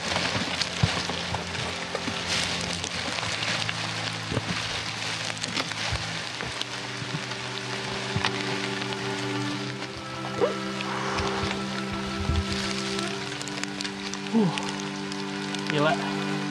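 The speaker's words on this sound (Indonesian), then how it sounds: "Tiba-tiba hujan" Rain falling steadily on a mountain hiking trail on Mount Sindoro, a broad hiss running throughout with people talking over it and a low steady hum beneath.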